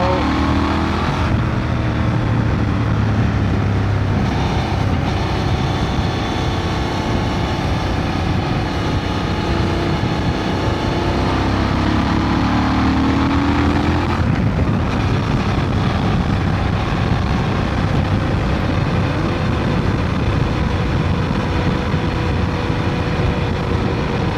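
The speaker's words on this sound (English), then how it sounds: "So let's see how it behaves, this parallel twin, when you push it a bit" Honda Transalp 750 2025 parallel twin motorcycle engine pulling hard while riding, a loud continuous roar with revs rising and falling through gear changes, wind rushing over it.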